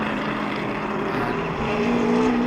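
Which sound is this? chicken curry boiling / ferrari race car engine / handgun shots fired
ferrari race car engine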